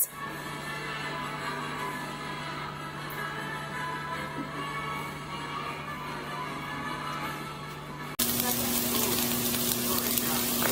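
Carrots, apple and ginger sizzle steadily in a pan on the stove, a continuous close frying hiss that jumps louder near the end, with a low hum running underneath.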